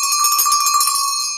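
A bright bell rings in a short sustained peal, like a bell calling students to class, clear and alone with long shimmering overtones that fade at the end.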